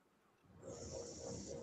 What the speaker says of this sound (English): Is she snoring